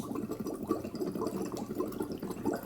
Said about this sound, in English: We're gonna shake up the water, put oxygen in it.